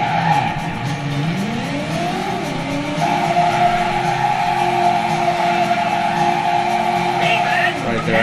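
A car in the Driver video game spins through a 360 with a loud, drawn-out tire squeal that rises and bends in pitch over a steady engine drone. The sound is near and continuous throughout.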